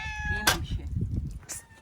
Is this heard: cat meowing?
yes